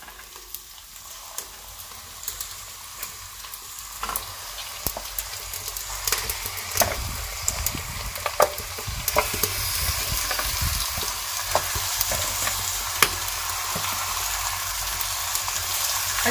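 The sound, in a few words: 1 kg beef frying in pan with ginger garlic paste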